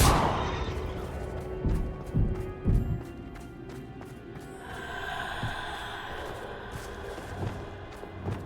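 A Confringo spell explosion in the Hogwarts Legacy video game bursts at the start, followed by several dull thuds and crackling impacts that fade into a quieter magical hum.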